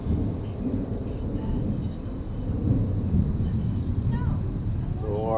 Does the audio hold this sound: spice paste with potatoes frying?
no